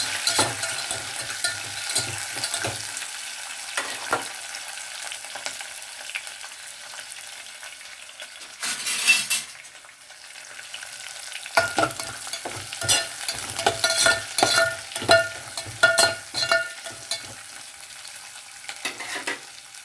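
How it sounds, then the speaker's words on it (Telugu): Onions and carrot fry in a pan for carrot upma, a soft sizzle broken by repeated scraping and stirring of a spoon against the pan, with clusters of quick stirring strokes and a short louder rustle midway, and no talk. "అలాగే ఉల్లిపాయలు, క్యారెట్ కూడా వేసుకుంటున్నామండి."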